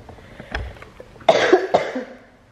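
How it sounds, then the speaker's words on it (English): A person coughs loudly and close by, a couple of harsh, raspy bursts, with a fainter cough just before them. "I'm right here and you coughing like a dog"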